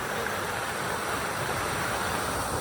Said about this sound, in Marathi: आणि हा इथला वॉटरफॉल.